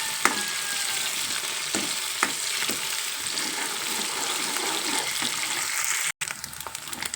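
Dried prawns fry in a pan with a steady, close sizzle, broken by occasional clinks of stirring and a brief cutout near the end.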